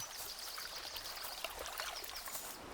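Water dripping and trickling onto wet moss at the foot of a limestone waterfall in the Swabian Alb, a faint, steady wash of splashing droplets with no voices.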